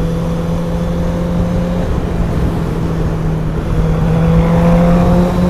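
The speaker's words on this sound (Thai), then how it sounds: "เราจะเร่งเร่งแล้วก็ผ่อนเร่งแล้วก็ผ่อนตลอดเวลานะครับ" A motorcycle engine hums steadily, its throttle rising and easing off in smooth swells, heard close and loud without any voices.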